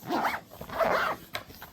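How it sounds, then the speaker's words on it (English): A binder's zipper is pulled closed in two quick rasping strokes, close and fairly loud, with a short click after and no talking. "I also love the fact that this binder zips."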